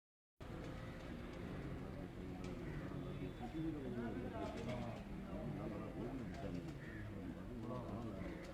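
Racing pigeons cooing close by, soft repeated burbling calls layered over a steady outdoor background with faint traffic.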